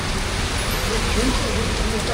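Heavy tropical rain pours over a flooded road in Vietnam, a dense, steady hiss of downpour that fills the whole clip at close range, with no break.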